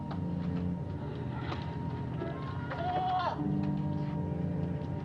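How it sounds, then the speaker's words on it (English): A goat gives a short wavering bleat amid a steady film-soundtrack background with low murmuring voices, the bleat rising briefly at mid-clip. "It's a goat."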